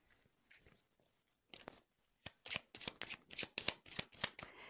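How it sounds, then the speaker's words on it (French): Tarot cards are shuffled close up and quietly, starting with a few soft slides and building into a run of rapid crisp riffling snaps. "je vais prendre d'autres cartes."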